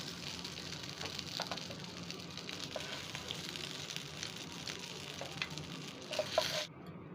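Koi fish sizzle and crackle steadily in hot oil in a pan, a dense close frying hiss that runs continuously before cutting off at the end.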